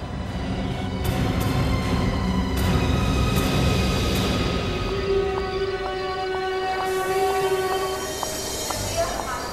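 A passenger train rolls along the rails with a loud, continuous rumble and rhythmic clatter, high squeals and horn-like tones ringing through, while people talk underneath.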